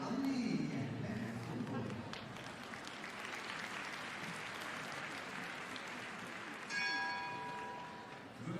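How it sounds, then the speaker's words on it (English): A bell rings out at an indoor CSI5* 1.55 m show jumping arena to call the next rider forward, its clear tone rising late over constant crowd noise and applause, with a commentator speaking. "The bell already sounding for the next to come forward."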